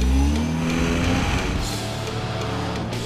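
A 2013 Ford Fusion Energi engine roars as it accelerates hard toward a turn, the revving pitch climbing and then holding steady under continuous road noise.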